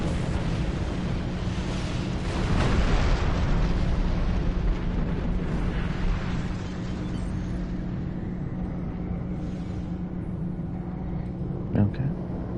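Ship explosion in Star Trek Online, a long, loud roaring rumble with a swelling blast early on that slowly decays into a steady low drone, with a small sharp pop near the end.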